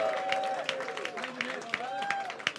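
Comedy club audience in Liverpool clapping and cheering as a comedian takes the stage, a lively burst of claps with whoops and shouts mixed in, close and full.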